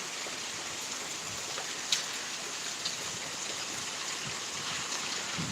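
Steady rain pouring down during a thunderstorm in Pittsburg, Kansas, in a constant, hissing wash, with a few louder drips standing out.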